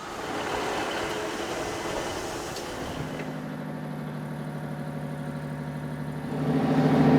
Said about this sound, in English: The sound of the level crossing coming down means that that's our train.